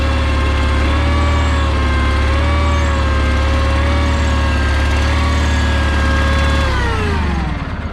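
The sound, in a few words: John Deere 318 lawn tractor engine starting and idling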